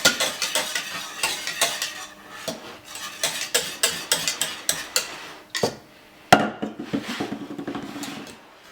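Whisk or spoon clatters rapidly against a bowl while flan custard made with cornstarch is mixed, a steady run of close, sharp clinks with one louder knock near the end.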